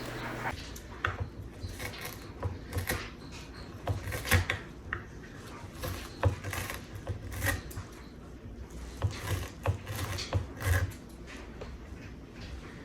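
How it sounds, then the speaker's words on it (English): A knife chops wild lettuce into small pieces on a board, a close series of irregular soft thuds and crisp cuts repeating throughout. "I'll just take this wild lettuce and chop it up into little pieces"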